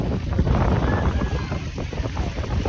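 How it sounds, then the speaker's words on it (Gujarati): Cool wind blows by the sea at Dwarka, buffeting the microphone in a loud, uneven rumbling gust that rises and falls over the shoreline noise. "ઠંડી ઠંડી હવા આવે છે."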